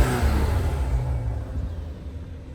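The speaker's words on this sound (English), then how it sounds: "You can hear the turbo pretty well." A new BMW 5 Series turbo engine revs with a deep, steady rumble that slowly fades, heard from close by with no talking.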